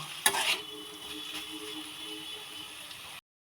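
Potatoes cooking in plenty of oil in a pan, a steady soft sizzle with a few scraping stirs of a spatula near the start, close by, ending abruptly in silence.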